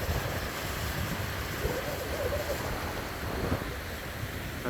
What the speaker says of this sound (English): There's the Savage River.